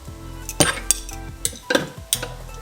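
A tablespoon scrapes and taps against a bowl as heaped spoonfuls of peanut butter go in, giving several sharp metallic clinks in an uneven rhythm, close and clear with no talking.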